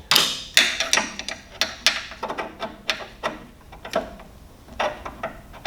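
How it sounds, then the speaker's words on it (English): Screws being backed out of the fan housing on a Rinnai RU series condensing tankless water heater with an 8mm tool, heard as a string of sharp clicks and ratcheting taps in an irregular rhythm, close up with no talking. "take off the 3 screws that hold the fan onto the housing."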